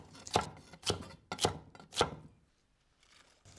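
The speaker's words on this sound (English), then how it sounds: "And again, we're just going to roughly chop." Celery is roughly chopped with a knife on a board, four crisp, evenly spaced thuds close up, then quiet.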